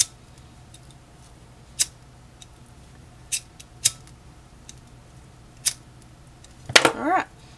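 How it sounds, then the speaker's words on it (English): Several sharp, isolated snips of blunt scissors cutting ribbon, spaced a second or more apart, ending in a longer dragging cut; quiet room otherwise. "Oh, my scissors aren't sharp anymore."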